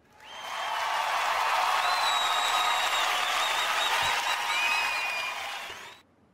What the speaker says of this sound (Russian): Аплодисменты. Где они у меня?